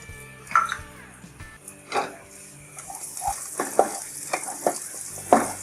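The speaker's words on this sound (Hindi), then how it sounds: "इसको हल्का सा सौते करेंगे हम बस।" Chopped garlic sautés in oil in a pan, with a soft sizzle under scattered scraping and stirring clicks from a utensil, close and intermittent.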